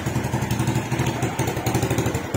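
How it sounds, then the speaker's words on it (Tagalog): A Raider J115Fi motorcycle with a 54mm bore idles while warming up in the morning, its engine putting out a close, steady, pulsing chug that stays loud and even for the whole stretch. "Panainit ang makina."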